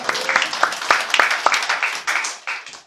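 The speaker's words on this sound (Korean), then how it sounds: "하나님 앞에 먼저 감사의 박수 드리겠습니다" Members of a Korean church congregation give a short round of thanksgiving applause during a worship service, with distinct sharp claps that thin out and fade away at the end.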